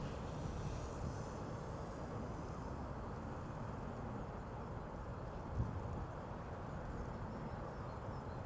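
A steady, broadband engine drone from a drone flying overhead holds at a constant level throughout, with no talking.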